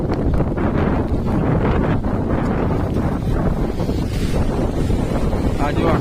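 Loud, continuous rushing of fast-moving floodwater with heavy wind buffeting, a steady roar throughout, no clear speech.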